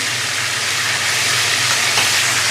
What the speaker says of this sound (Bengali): বাকি যে চিকেনগুলো ছিল সেগুলো আমি আবার ভাজার জন্য দিয়ে দিলাম।